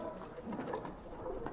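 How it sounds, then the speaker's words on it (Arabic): A pigeon or dove coos softly in a low, murmuring rhythm, faint and somewhat distant, over a dull background hum. "هذا الطير من وين اجاك"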